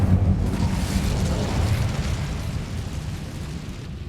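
Incendio fire spell cast in Hogwarts Legacy, a loud, sustained fiery roar with a heavy low rumble and crackling bursts that holds steadily for about four seconds before easing slightly.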